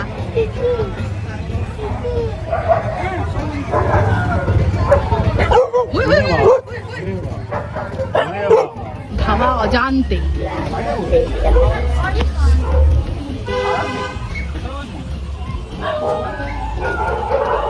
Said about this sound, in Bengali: ওই দেখ একটা ল্যাবরেটর